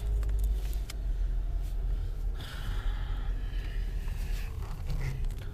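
A car with a faulty clutch or gearbox drives along with a steady low engine rumble and road noise from inside the cabin, plus faint rattles and hisses.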